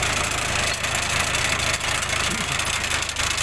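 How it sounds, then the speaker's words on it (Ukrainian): A tractor engine idles and rumbles continuously at close range, driving a modified potato digger, a low droning hum with faint mechanical knocking throughout. "Завів трактор, крутиться."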